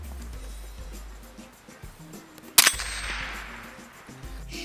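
A Ruger 10/22 rifle fires a single sharp shot that strikes a metal target with a bright clang, standing out against quiet outdoor background.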